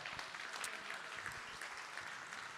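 An audience applauds at a livestreamed birthday celebration on stage, steady, fairly quiet clapping that continues throughout with no talk over it.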